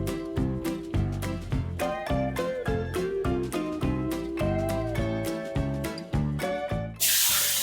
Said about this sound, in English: we're going to spray all clean, diluted 15 to 1 on your wheels.